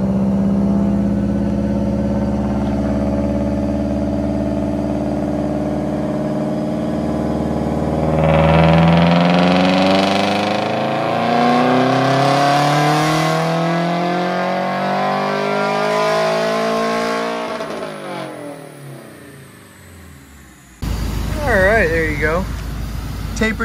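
A tuned car engine revs hard at full throttle, pitch climbing steadily to a loud roar, then dropping off before a burst of nearby noise.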